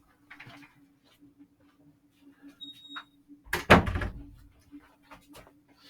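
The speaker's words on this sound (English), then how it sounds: "I'm going to close the door real quick." A door being closed in a school gym during a CrossFit PE class, a single firm thud with a brief rattle after some quiet shuffling, fairly close, with no talking.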